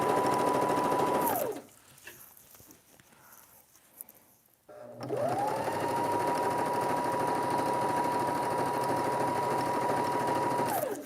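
A sewing machine, used for kitchen and door curtains, stitches a seam in two sustained runs at a steady, even whir, with a brief quiet pause between them.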